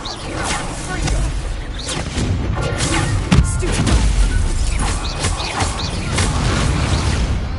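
Confringo blasting curse explosions in the Hogwarts Legacy game, a dense, loud wash of booms, crashes and thuds with heavy rumble, continuous throughout and layered with voices talking.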